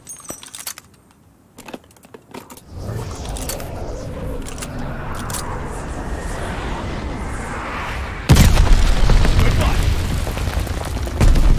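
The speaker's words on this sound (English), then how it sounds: "Teammate called a bombing run." Bombing-run explosions rumble through a Call of Duty Vanguard match, starting as a long low rolling roar and then a sudden heavier blast with continued booming, over sharp clicks and brief voice.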